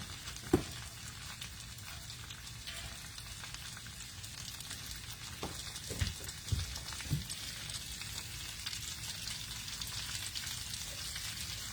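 Onions sizzling and frying in melted butter in a pan for Southern greens, a steady close crackle throughout with a few brief louder knocks and stirring sounds, no talking.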